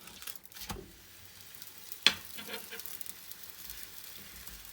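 A cheese paratha made with cheese slices sizzles on a pan just after being flipped, with a soft, steady frying hiss, one sharp clack near the middle and a few light scrapes.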